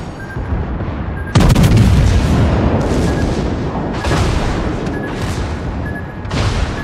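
Naval ship guns fire in World of Warships, heavy booming salvos that crash in one after another with rolling, rumbling tails, loud and close.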